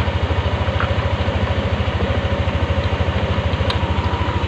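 Yamaha NMAX scooter engine running without its battery connected, a close, steady idling putter with an even rapid pulse, alone with no talk.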